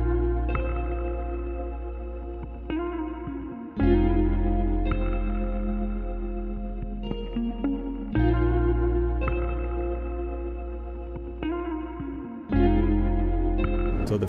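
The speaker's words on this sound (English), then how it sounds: "So I just layered it with other sounds and now the A section of the sample sounds like this." Dark layered guitar sample loop for a beat's A section, deep sustained bass tones under effected, chorused guitar chords that change every few seconds, full and steady, no voices.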